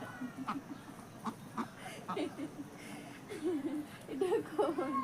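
Ducks in a village yard quack in short repeated bursts, near to mid-distance, with a low murmur of farmyard background and some faint talk underneath.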